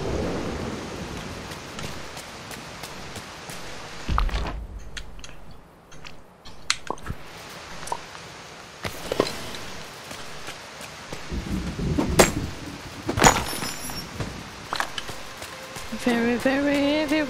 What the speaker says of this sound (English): Ooh, it's heavy rain.